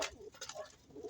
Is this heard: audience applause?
no